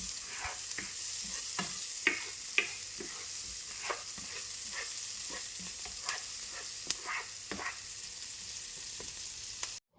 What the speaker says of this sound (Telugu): ఈ విధంగా ఉల్లిపాయలన్నీ కూడా గోల్డెన్ బ్రౌన్ కలర్లోకి ఫ్రై అయిపోయిన తర్వాత